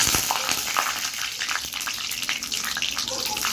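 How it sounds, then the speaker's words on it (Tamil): Mustard seeds crackle and spit in hot oil for a masala dosa potato filling, a steady dense hiss of tiny pops running close and fairly loud throughout. "சூடேறிடுச்சு. இப்போ கடுகு போட்டுக்கலாம்"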